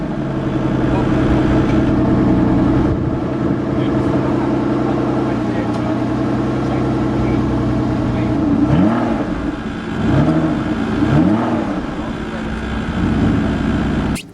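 An Aston Martin DB9 engine idles with a steady, close rumble, then rises in several quick revs whose pitch sweeps up and falls back near the end, with a voice talking over it.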